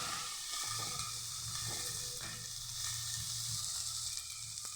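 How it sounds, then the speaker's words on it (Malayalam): Spices fry in hot oil with garlic, coriander and cumin for a potato and green pea curry, giving a soft, continuous sizzle with faint stirring scrapes. "നമുക്ക് ഓരോ മസാലകൾ ഇട്ട് കൊടുക്കാം"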